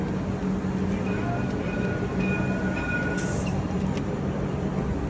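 Steady rumble of a train ride in Jerusalem, with continuous rolling wheel noise and faint squealing tones throughout, heard from inside the carriage.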